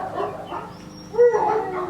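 A pet dog named Sheru, outdoors in a garden during a landscape lighting installation, lets out a short bark or yelp at moderate distance over low background noise.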